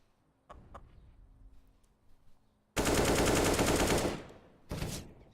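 Gunfire in a Counter-Strike esports match: a couple of faint single shots, then a loud, sustained automatic burst lasting over a second, followed by a shorter second burst.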